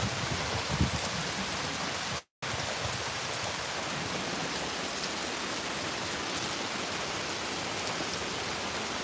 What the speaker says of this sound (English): So it's absolutely torrential rain.